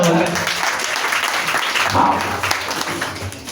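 Church congregation applauding and cheering during a sermon, a dense continuous wash of clapping and voices throughout, with some speech mixed in.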